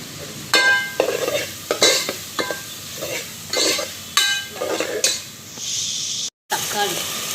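Ginger garlic paste frying in a pan, crackling sizzle broken by repeated scraping strokes of a spatula in a regular rhythm, close and fairly loud, with a brief cutout near the end.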